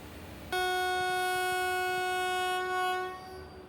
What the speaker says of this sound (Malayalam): ട്രെയിൻ ഇപ്പോൾ അവിടേക്ക് കയറിക്കൊണ്ടിരിക്കുകയാണ്